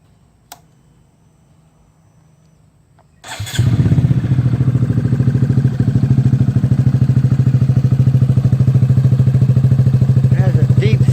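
A Honda Grom motorcycle fitted with an M4 exhaust starts up after a quiet lead-in, then settles into a loud, steady, deep-toned idle that runs close and continuous to the end.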